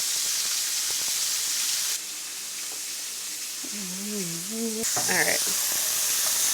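Vegetables sizzle and steam in an oiled pan while cooking for a cheesesteak stromboli, a steady hiss that surges louder near the end, with a brief spoken word and some tonal kitchen sounds.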